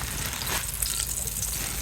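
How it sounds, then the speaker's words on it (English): Flour-coated meat sizzles and crackles steadily in a hot Dutch oven over a campfire, a close, continuous frying hiss. "You want the sizzle? Sizzle."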